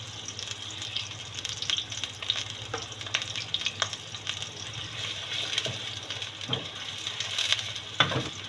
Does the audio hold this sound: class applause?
no